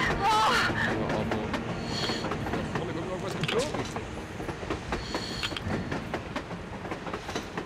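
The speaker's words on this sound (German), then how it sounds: "Ein verdammter Zug an der Oberfläche!" A train rumbles past on the surface in the video game Metro Exodus, a steady rolling clatter with rhythmic wheel clicks and a squeal, heard under game dialogue.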